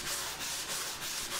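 Sanding a glued ash wood desk panel, a loud, steady abrasive rasp with rhythmic back-and-forth strokes roughly every third of a second, close and continuous.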